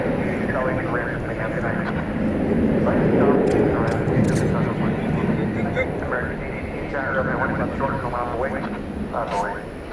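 An airliner starts its takeoff roll on a runway at DFW Airport at night: a broad, steady engine roar swells and then holds, heard from a distance with faint background voices.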